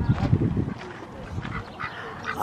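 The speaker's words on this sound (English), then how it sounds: "Oh, we got ducks." Ducks at a farm animal sanctuary give a run of loud, close quacks and honks at the start, then fainter calls continue over a background murmur.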